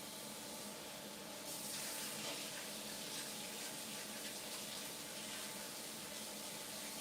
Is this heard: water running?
yes